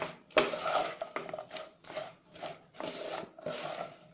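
Roasted puffed lotus seeds stirred into a sticky candy mixture in a pan, a series of separate scraping and clattering strokes with short gaps between them, close up and without voices.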